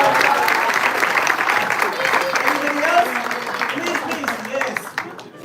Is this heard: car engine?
no